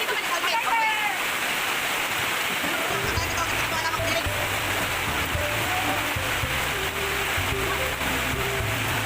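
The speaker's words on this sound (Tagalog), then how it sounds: "Lumakas na ang ulan, guys." Heavy rain pours in a dense, continuous hiss with a low rumble underneath, and a voice speaks briefly over the downpour.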